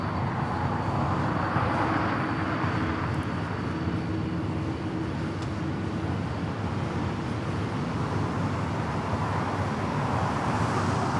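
An Airbus A330 airliner from TAP Air Portugal takes off at Los Angeles International Airport, a steady loud jet roar filling the whole stretch, broad and distant-sounding with no pause.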